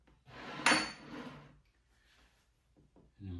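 A single clunk as the air fryer basket of a Power XL is shut, a sharp plasticky knock amid quiet kitchen handling, followed by faint rustling and a brief low thud.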